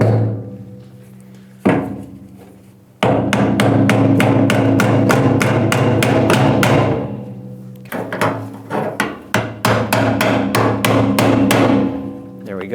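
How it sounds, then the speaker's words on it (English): Rapid series of sharp hammer blows on metal while replacing the fuel tank of a 1997-2001 Lexus ES300, close and loud, in two long runs separated by a short pause, with ringing resonance beneath. "let's grab the hammer"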